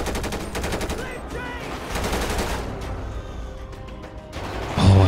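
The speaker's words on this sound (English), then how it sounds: "Oh, I see this guy's already starting to fire at us." Enemy gunfire in GTA 5 during a SWAT or military police patrol, with bursts of shots crackling over a busy game soundscape and a voice speaking partway through.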